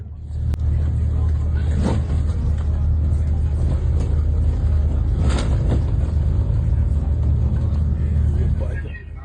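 A car drives along a devastated street past burning cars after unrest in Russia, its engine rumbling loud and steady throughout with road noise and occasional thumps, and the rumble fades near the end.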